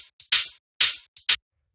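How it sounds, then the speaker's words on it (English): Tambourine and shaker samples trade bright, crisp hits with a hi-hat in a house production, a few sharp rhythmic bursts, dry and clean, separated by silence. "So first we have this tambourine and shaker,"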